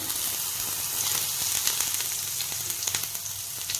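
Whole cumin seeds and finely chopped ginger fry in hot refined oil, giving a dense, continuous sizzle with scattered sharp crackles and pops, close and loud, with no talking.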